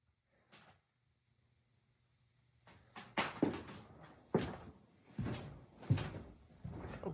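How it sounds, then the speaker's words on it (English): Cupboard doors bang and clatter open in a kitchen, several knocks and wooden thuds after a quiet stretch, close and fairly loud, no talking. "Cupboard doors started opening on their own."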